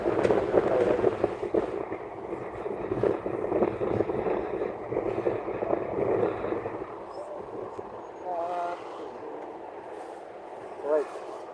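Gusty wind roars against the microphone for several seconds, then eases, leaving quieter background with brief voices.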